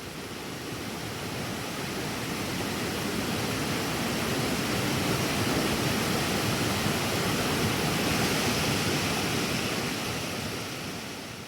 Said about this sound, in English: And then the main event, this beautiful waterfall.